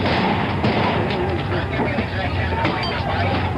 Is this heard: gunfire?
yes